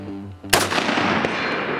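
A single loud Springfield M1A rifle shot fired at a 12-inch steel gong 200 yards away, a sharp close crack with a rolling echo tail, then a faint distant ping of the hit about half a second later.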